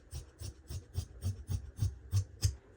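Scissors cutting through kameez fabric along a marked cutting line, a steady series of about nine crisp snips in even rhythm, close and moderately quiet, with no talking.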